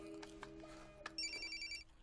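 A mobile phone rings faintly indoors: a short electronic ringtone of steady pitched tones that starts partway through and lasts under a second, over quiet room noise.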